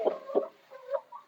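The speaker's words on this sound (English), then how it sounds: "got chickens coming in to check out the new digs." Chickens cluck softly inside a renovated barn, three or four brief low clucks close by in a short quiet moment.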